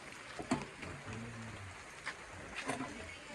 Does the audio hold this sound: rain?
yes